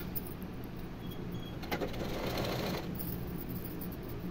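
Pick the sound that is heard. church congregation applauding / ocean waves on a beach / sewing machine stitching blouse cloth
sewing machine stitching blouse cloth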